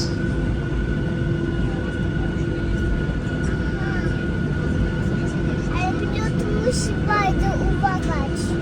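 Jet airliner cabin during takeoff on a flight from Gazipaşa in Alanya, Turkey, to Warsaw: a loud, steady engine roar and rumble filling the cabin throughout, with children's voices and chatter rising over it near the end.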